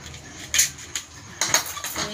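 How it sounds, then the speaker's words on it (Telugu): A kitchen knife chopping a single onion on a cutting board, giving a few sharp, separate knocks close by with short pauses between them and no talking. "ఆనియన్ కట్ చేసుకుంటున్నా"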